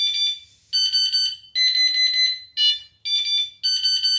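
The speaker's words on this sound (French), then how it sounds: "Là, c'est le plus fort." Carp fishing bite alarm set to its loudest level gives a string of six or seven sharp, piercing electronic beeps in close succession, each held briefly, loud and near with no speech.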